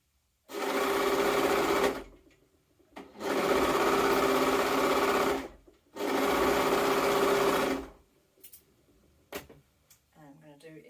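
A sewing machine stitches a jumpsuit seam in three long, loud bursts of rapid whirring, each lasting a couple of seconds with short pauses between, followed by light handling clicks and rustles.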